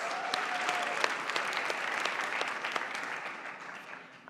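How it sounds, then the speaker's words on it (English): Conference audience applauding in a steady, dense wash of clapping that holds for several seconds before thinning slightly at the end. "I think that deserves an extra round of applause."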